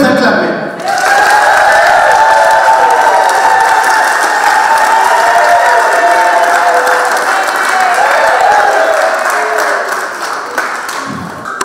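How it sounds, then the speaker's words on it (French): Wedding guests in a church burst into loud, sustained applause and cheering for the newly married couple, a dense wash of clapping and whoops that holds steady before tapering off. "Est-ce qu'on peut les acclamer?"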